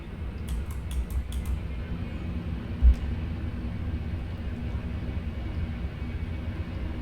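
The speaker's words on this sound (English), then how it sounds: "And now I'm gonna put my taxi light on and we're gonna begin taxiing." In the Roblox game Project Flight, an airplane taxis with a low, steady engine rumble, faint and continuous, marked by a few soft clicks and one brief thump.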